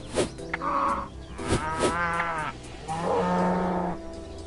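Cows in the RuneScape video game moo several times in close succession, drawn-out bellowing calls rising and falling, each loud and near with brief gaps between them and no talk over them.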